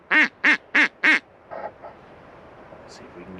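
Four loud, evenly spaced duck quacks ring out close by during a duck hunt in northern Nevada, followed by a quieter call and faint outdoor ambience.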